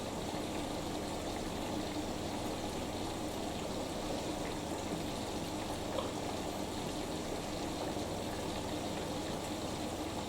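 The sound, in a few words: Fisher & Paykel WD8060P1 washer dryer filling with water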